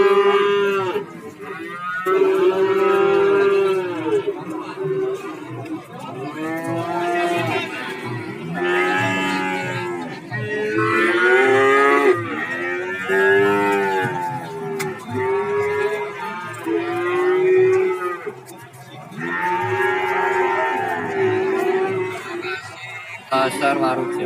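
Cattle moo repeatedly at a livestock market in Warujayeng, Nganjuk, with long, loud calls from several animals following one another over a steady background of crowd murmur.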